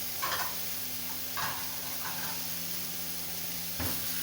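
Minced meat (keema) fries with spices in a pan, a faint steady sizzle broken by a few brief stirring scrapes.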